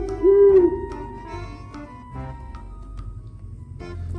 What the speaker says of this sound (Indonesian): Wow, ini ada burung hantu.